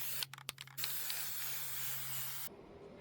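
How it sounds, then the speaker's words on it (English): Spray adhesive hisses from an aerosol can onto the backs of cardboard and fabric pieces in one steady close spray, preceded by a few short clicks and brief puffs before cutting off. "I'm going to spray both sides on the back with a spray adhesive."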